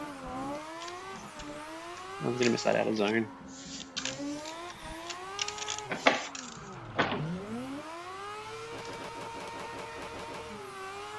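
Simulated Mazda RX7 rotary engine in the game Death Wish Garage, revving hard with rising and falling whines, bouncing off the rev limiter in rapid stuttering bursts while someone talks over it.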